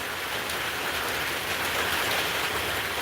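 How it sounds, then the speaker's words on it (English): Steady rain falling in North Georgia, a dense even patter of drops on surfaces that carries on unbroken and fairly loud, with no voices. "We're in North Georgia, just kind of watching the rain"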